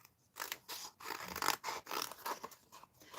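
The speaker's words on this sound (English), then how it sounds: "I'm cutting out far too much." Scissors snip through paper while craft images are cut out for a rub-on project. The close, quiet crisp cuts and rustles repeat in uneven bursts, with no talking.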